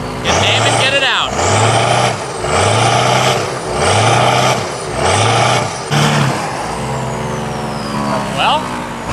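A healthy car engine revs repeatedly, five strong rises and falls in a steady rhythm, close and loud, then settles into a lower idle near the end, with voices at times.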